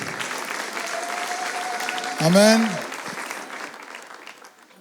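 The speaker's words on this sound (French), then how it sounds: "Applaudissez pour eux." Audience at a church conference applauds in a steady, moderately distant patter, while a voice briefly calls out over the clapping partway through.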